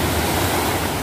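Strong ocean waves surge onto a beach at a Quezon Province resort, a loud, continuous roar of surf that fills the whole moment without a break.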